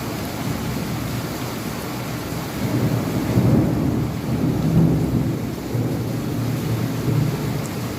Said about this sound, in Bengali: মেঘের আওয়াজ,